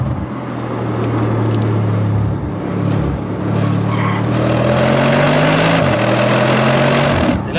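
Audi RS6-R ABT quattro engine droning loudly at close range, its pitch climbing, falling and shifting as the car drives and skids, with broadband tire and road noise throughout.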